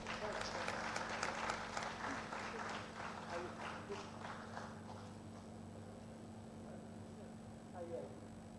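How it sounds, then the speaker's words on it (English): Applause at an agriculture and allied sciences conference honoring a university professor, a fairly faint patter of clapping that is strongest at first and fades out after about five seconds, leaving quiet room tone with a steady hum. "Please give a great round of applause to her."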